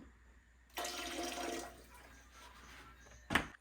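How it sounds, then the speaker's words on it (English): Water poured into a home canner, a soft splashing gush that gives way to quieter trickling, then a brief sharp clatter at the end. "add 3 quarts of water to your canner"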